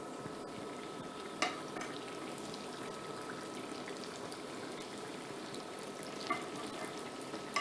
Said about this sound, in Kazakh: Қызып тұрған майға пирожкиді жапқан жағымен салып, екі жағын сарғайтып қуырамыз.